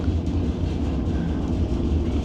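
White Pass Scenic Railway train in Skagway, Alaska rumbling along the tracks, a loud steady low roar of rolling cars heard from on board or nearby, continuous without talk.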